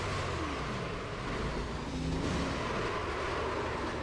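A stock-car engine in the iRacing sim at Fontana roars continuously, a dense loud drone that swells as the driver gets on the gas, filling the whole clip without any voices.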